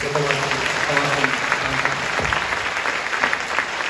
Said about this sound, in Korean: 서로 박수 한번 해주시죠.